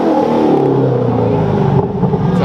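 A 2021 Ferrari SF90 Stradale Assetto Fiorano revs loud and close through its exhaust, a dense continuous engine roar with no pauses and no talk over it.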